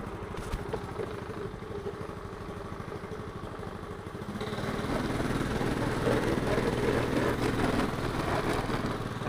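A Honda Activa scooter engine idles nearby with a steady low throb, then revs up louder and rougher partway through and keeps running.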